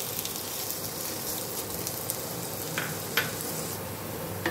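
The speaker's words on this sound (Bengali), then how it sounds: "আলুটা একটু হালকা করে ভেজে নেব," Sliced potatoes fry lightly in a small amount of oil, producing an even hissing sizzle with occasional faint pops and clicks, close and steady throughout.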